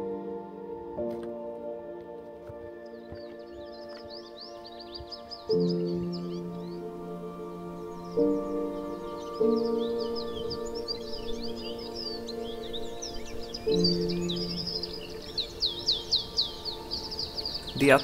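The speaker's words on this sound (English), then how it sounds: "The bird song was so vibrant." Birds chirp and trill in a pine forest on Gran Canaria, fairly close and lively, over a droning background tone that shifts pitch several times.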